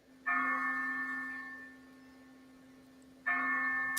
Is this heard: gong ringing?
yes